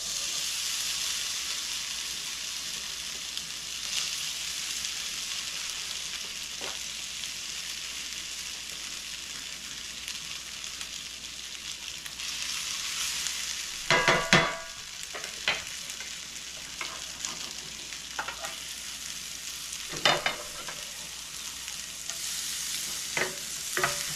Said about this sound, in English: I'm gonna cook my potatoes in one pan, and I'll do my peppers and onions in this pan.